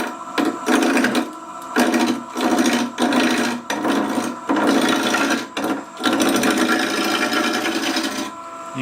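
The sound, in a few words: wood lathe roughing cut across the grain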